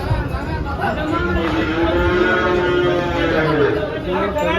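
At the Dhule cattle market, an HF or Jersey cross cow lows in a long, drawn-out moo close by, under the steady chatter of a crowd and people talking.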